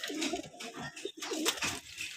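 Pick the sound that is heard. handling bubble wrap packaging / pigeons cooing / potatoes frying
pigeons cooing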